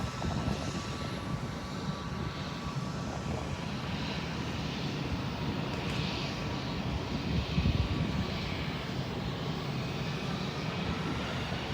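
A Boeing 747 airliner at an airport, heard as a steady, distant roar of jet engines that holds evenly throughout with no talking.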